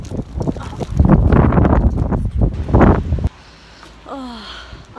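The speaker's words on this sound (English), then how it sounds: "I didn't realise it was so windy" Strong wind buffets the microphone outdoors in the rain, a loud rough rumble during the first three seconds that then drops to a quieter gusty hiss.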